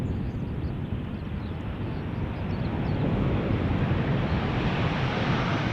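An Emirates Airbus A380 airliner passes as a broad, steady engine roar, with buffeting wind across the microphone. The roar swells louder toward the end and no one speaks.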